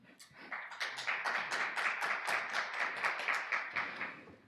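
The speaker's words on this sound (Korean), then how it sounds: "큰 박수로 모시도록 하겠습니다." Scattered applause greets a speaker at a Korean VR/AR standards forum launch event, a modest group clapping in an uneven, rapid patter that stays fairly faint and distant.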